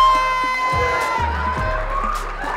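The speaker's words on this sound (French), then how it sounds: "je vais vous demander un maximum d'applaudissements," An audience at a stand-up comedy show cheers and shouts for a sub-prefect, a lively crowd roar with a few sharper whoops, with tonal sounds running underneath.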